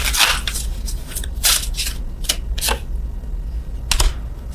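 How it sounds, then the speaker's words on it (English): Tarot cards riffle and snap in quick bursts, several rapid shuffles close to the microphone with brief pauses between them. "I'm shuffling these cards again"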